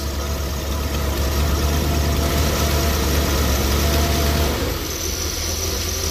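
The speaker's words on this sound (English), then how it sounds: "It's not idling right. It's gonna die." A heavy RV engine idles roughly close by with a steady low rumble and vibration, dipping slightly near the end as if about to stall.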